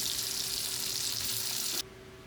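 Close, continuous hiss of sardines frying in coconut oil, an even sizzle that cuts off abruptly after almost two seconds and leaves only faint room noise.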